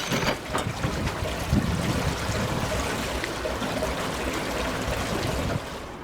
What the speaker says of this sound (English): the lock is filling.